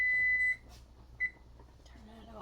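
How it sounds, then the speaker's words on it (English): A kitchen timer beeps during pasta cooking: a long, steady, high-pitched electronic tone, then one short beep, close and clear, with a voice starting at the end. "there's my timer"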